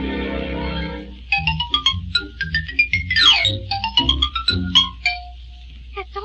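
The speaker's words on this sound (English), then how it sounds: "And the more playful of the family, the xylophone." An orchestral xylophone played in a quick, playful run of short wooden notes, some rapid trills and a sweeping glissando, heard clearly with no voices over it.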